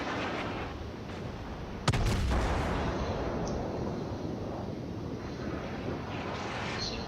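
Secondary guns fire aboard the Japanese battleship Amagi in the naval combat game World of Warships: one sharp, loud boom near the two-second mark cuts through a steady roar of wind and sea noise.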